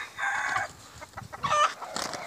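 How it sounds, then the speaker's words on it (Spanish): Breeding hens and a rooster in a gamecock yard give off a short crow and scattered clucks, fairly close and moderately loud, with no talk. "Estas son gallinas de madre."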